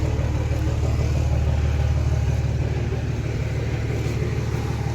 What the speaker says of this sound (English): I hear a forklift, so we'll get her lifted up.